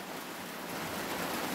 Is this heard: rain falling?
yes